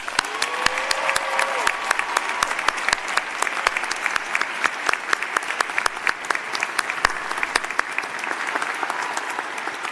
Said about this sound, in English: We have an excited round of applause for our graduates.